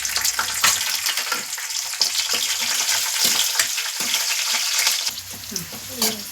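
Cashews and raisins frying in ghee in a pan for semiya payasam, a bright crackling sizzle with stirring scrapes and small pops, close and continuous, without talk.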